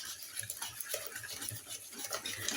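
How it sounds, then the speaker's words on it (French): Butter being mixed into galette des rois batter in a bowl, a soft continuous rhythmic stirring with faint scraping and light taps, close and quiet. "Et là, on mélange."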